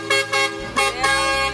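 A trash truck sounds its horn in repeated honks, four loud toots in quick succession close by, out on a street in an African neighbourhood where it calls residents to bring out their rubbish.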